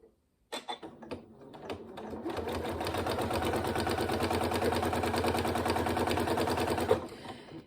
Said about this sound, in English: And then I'm going to sew a seam down here.